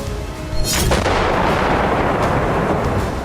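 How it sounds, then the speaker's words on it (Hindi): Artillery shelling on the outskirts of Donetsk: a heavy, loud boom erupts and rolls into a sustained, rumbling roar that fills the rest of the clip, with no speech. "यहाँ लगातार गोलाबारी की जा रही है।"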